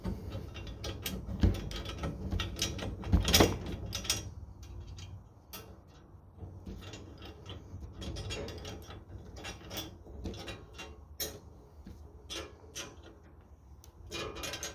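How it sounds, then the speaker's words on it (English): Upper grill guard bolts on a John Deere 2 Series tractor are tightened with a ratchet, fast clicking bursts and metallic clanks close by, pausing and restarting between turns. "I'm going to tighten up these upper bolts"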